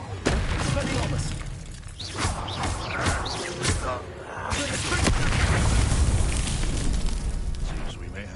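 The Expelliarmus disarming spell cast in the Hogwarts Legacy video game, a loud burst of magical booms and shattering crackles amid battle noise, with voices talking over it.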